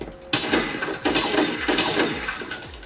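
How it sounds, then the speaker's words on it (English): Glass shattering in the video game F.E.A.R. First Encounter Assault Recon, played through a Panasonic Soundslayer PC soundbar: a sharp smash followed by several more crashing, tinkling breaks in quick succession. "Like, you can hear the glass breaking."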